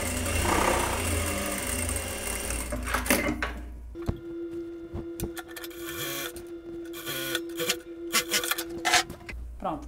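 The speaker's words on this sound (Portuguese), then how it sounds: "Também vou fazer essa costura na reta e no overlock" An overlock sewing machine finishes the side seams of pantacourt trousers, its rapid mechanical whirring running in steady bursts that stop and restart with short pauses and clicks of handling.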